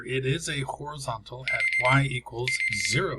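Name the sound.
alarm clock ringing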